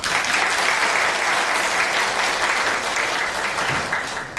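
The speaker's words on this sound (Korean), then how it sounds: "한 분 한 분 소개해 드릴 때마다 큰 박수로 부탁드립니다." A forum audience at Changwon National University applauds a guest introduction, with dense, sustained clapping that holds steady throughout and no speech over it.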